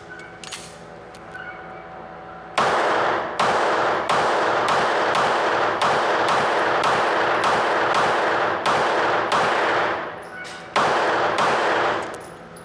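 Glock 19 Gen 6 pistol firing a full magazine in rapid succession, a long string of loud, sharp shots with brief gaps, starting after a short quiet stretch and pausing once near the end before a final few rounds.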